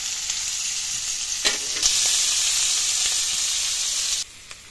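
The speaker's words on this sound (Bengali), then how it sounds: "সেই পেঁয়াজগুলো আরো কুচি কুচি করে এবার ভাজবো" Chopped onions sizzle in hot oil over a wood-fired stove, a steady close frying hiss with brief stirring clatters, ending abruptly as the heat or mic cuts.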